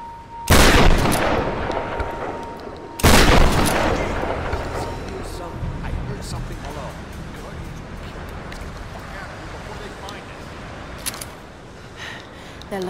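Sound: shotgun firing in Tomb Raider video game

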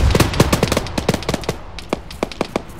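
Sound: heavy gun firing from a technical in video game Arma 3

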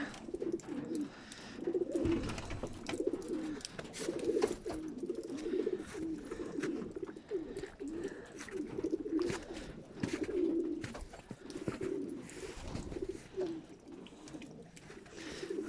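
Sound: pigeons cooing in a loft

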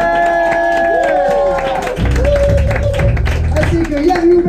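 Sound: audience applause at jazz jam

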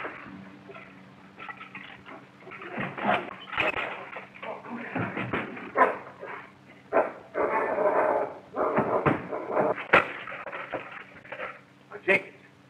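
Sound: dog barking and whimpering

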